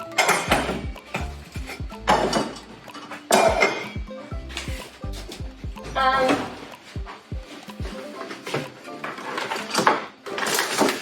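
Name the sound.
cooking pot being handled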